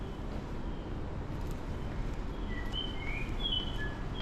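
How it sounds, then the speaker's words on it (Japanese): Small birds chirp at a train station platform in Akita, with a few faint, high chirps scattered through the second half over a steady wash of station noise. "小鳥の鳴き声は自然の鳴き声でしょうか。"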